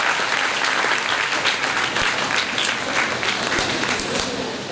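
A stage gathering for a Mother Teresa birth anniversary celebration breaks into loud, sustained applause welcoming a guest, a dense steady patter of many hands with crowd murmur under it, fading slightly at the end.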